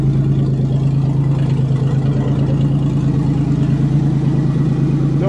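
Loud, steady rumble from the crude, leaky exhaust of a 1990 Buick Century engine running nearby, a continuous throaty drone with a strong low hum and no pauses throughout.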